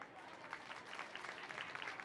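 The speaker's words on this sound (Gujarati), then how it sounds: "ત્યારે પહેલાં પોતાના માટે તાળી પાડો" An audience of women at a village gathering claps together in a faint, steady ripple of applause that continues throughout.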